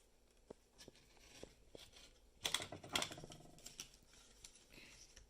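Faint, scratchy slicing of an X-Acto knife cutting small paper pieces for Japanese KamiKara paper toys, with scattered light scrapes and a brief busier burst of cuts near the middle.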